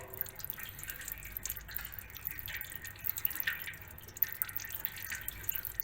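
Old, sludgy brake hydraulic fluid dribbling from a removed brake pipe on a car, heard as faint, irregular small drips and patters over a low background hiss, with no voices.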